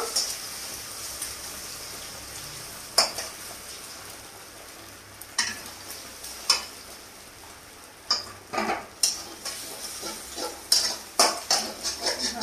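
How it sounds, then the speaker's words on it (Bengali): Beaten eggs scramble in a wok for fried rice, a soft low sizzle under repeated sharp metal scrapes and clinks of a spatula that grow more frequent toward the end. "এবার ডিমটাকে আমি নেড়ে নেড়ে ঝুড়ি বানিয়ে নেব।"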